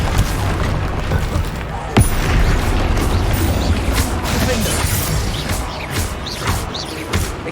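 Rapid volleys of Hogwarts Legacy spell blasts, Confringo and Expelliarmus, crack and boom in dense succession, with loud impacts and a bright crash near two seconds over a constant churning battle rumble.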